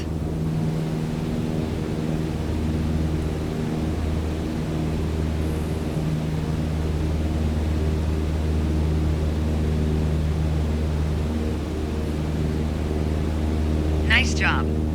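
A light aircraft engine drones steadily in Microsoft Flight Simulator, a constant low hum with stable tones while throttling back during a training flight, with no noticeable change in pitch and a brief chirp near the end.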